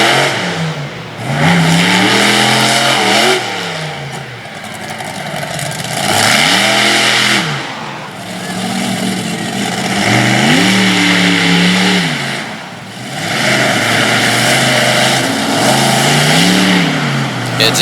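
A monster truck engine at a dirt track in Sarver, Pennsylvania revs loudly in repeated rising and falling surges as the truck slides and drifts through the turns, close and dominant with brief dips between the pulls.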